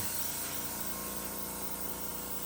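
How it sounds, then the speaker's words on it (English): A continuous hissing spray of rubbing alcohol from a spray bottle, steady and close, lasting the whole moment without pauses. "I take another bottle with rubbing alcohol, and then I just spray."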